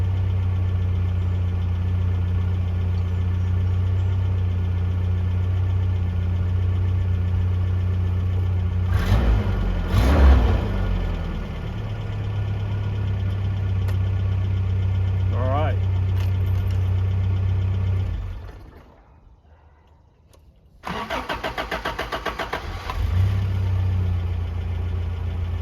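A 1982 Toyota SR5 4x4 pickup engine idles with a steady low rumble, blips and revs around the middle, then cuts out to near silence before cranking and catching again; a voice talks at times.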